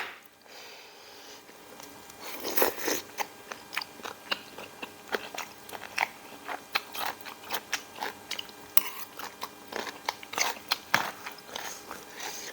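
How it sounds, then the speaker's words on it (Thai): Biting and chewing crispy squid salad (tam muek krob) eaten with rice noodles, close and crunchy, with a steady string of sharp crisp bites and munching throughout, no talking. "ตำหมึกกรอบนะจ๊ะ หมึกกรอบยั่วๆจ้า ซิมคำแหลกก่อน"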